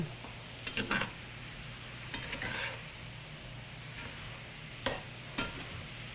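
Potatoes, onion and apples being stirred together in a buttery pan, with a low sizzle and scattered utensil clinks and scrapes against the pan.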